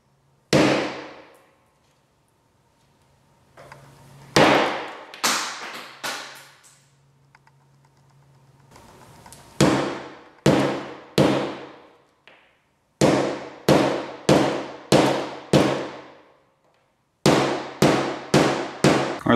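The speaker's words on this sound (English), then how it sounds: "started hitting your miniatures with a hammer" A hammer repeatedly striking plastic tabletop miniatures, sharp loud impacts in quick clusters of three to five blows separated by short pauses, close and percussive.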